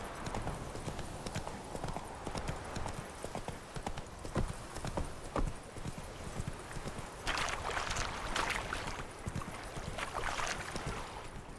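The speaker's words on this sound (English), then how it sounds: "I'll take the horse. It's more exciting." In the Witcher 3 video game, horse hooves clip-clop at a steady pace over a constant ambient outdoor wash, with the hoofbeats closest and loudest near the end.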